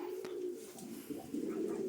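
Soft, low cooing from a sick pigeon, a few throaty murmurs close by in a quiet space.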